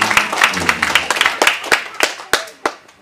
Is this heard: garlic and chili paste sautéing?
no